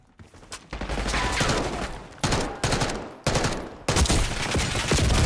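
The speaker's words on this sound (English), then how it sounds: "No, and I shot right through the wall." Sustained automatic gunfire shooting through a wall in the video game Call of Duty Black Ops 6, loud rapid bursts broken by brief pauses, close and dominant with no talk.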